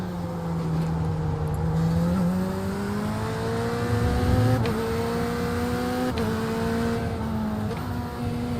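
Race car engine in the iRacing simulator at Virginia International Raceway during an IMSA endurance event, a steady close-up whine that climbs in pitch through the gears with brief shift breaks, loud and continuous with no talking.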